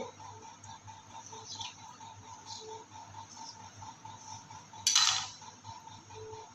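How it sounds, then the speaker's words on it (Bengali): A knife cutting through tal paratha dough made with palm fruit on a board, producing faint, scattered taps and light scrapes, with one louder sharp clatter near the end. "এইভাবে পুরো কেটে দেবো"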